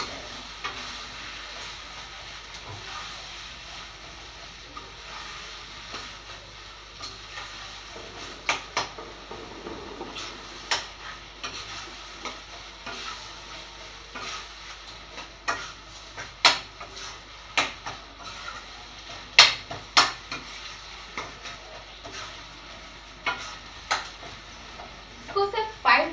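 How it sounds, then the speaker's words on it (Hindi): Pumpkin and onion frying in a pan, a soft steady sizzle with scattered clinks and scrapes of stirring that grow more frequent, under a quiet background. "हमें फ्राई करना है यानी कि भूनना है अच्छे से"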